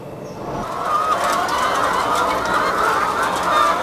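Farm hens cluck and chatter together in a dense, continuous flock noise, fairly loud and close, with a few brighter squawks rising above the steady din.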